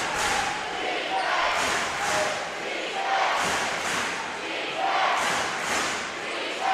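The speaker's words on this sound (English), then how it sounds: "The Owls crowd chanting defense" A college basketball crowd at Florida Atlantic chants "defense" in a rhythmic, repeated pulse of massed voices, with a commentator talking over it.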